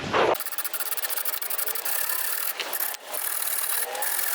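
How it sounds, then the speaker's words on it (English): A wire brush scrubbing rust off a cargo trailer camper jack, fast repeated rasping strokes close to the mic, steady and fairly loud with a couple of brief pauses. "I am going to brush off the rust that is on here"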